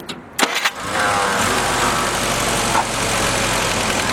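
A Willys CJ5 Jeep four-cylinder with a fresh battery and new carburetor cranks briefly, then fires and settles into a steady idle close by.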